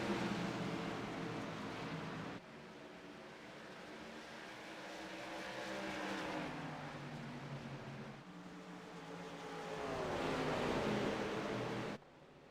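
A field of race cars roars off the green-flag start at Iowa in the iRacing simulator, an ARCA Series round, engine drones layering and shifting in pitch as the pack passes, with a short quieter stretch midway and no talk.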